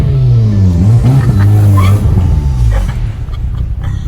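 A Corrado fitted with a Neuspeed supercharger and a 2.5 engine runs close by, its engine rising and falling through loud revs before settling to a rougher idle.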